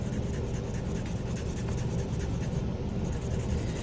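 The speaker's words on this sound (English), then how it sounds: "You shade over the entire back with graphite." A number 2 graphite pencil shades steadily across the back of a sheet of paper under moderate pressure, giving a continuous close scratchy scraping with fine rhythmic strokes and no talk.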